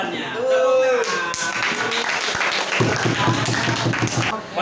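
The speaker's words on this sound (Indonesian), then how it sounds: "Benar jawabannya. Tepuk tangan." A classroom of students claps in a short burst of applause after a correct quiz answer, with voices chattering and calling over the clapping.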